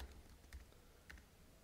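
Faint, sparse keystrokes on a computer keyboard tap out a few scattered clicks in an otherwise quiet room with low hum.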